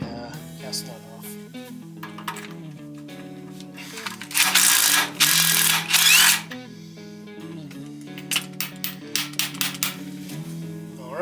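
A ratchet works a castle nut off a tie rod on a C20 pickup, sounding as bursts of rapid clicking and a short run of separate ticks, with a steady hum in the background.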